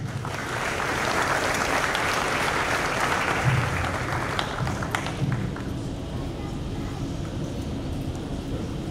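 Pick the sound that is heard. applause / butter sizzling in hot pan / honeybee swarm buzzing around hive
applause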